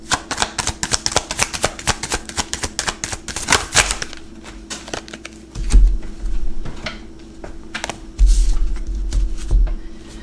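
Tarot cards being shuffled, with a quick run of sharp riffling taps for about four seconds, then a few scattered softer handling sounds and dull low thumps as a card is drawn and set down close by.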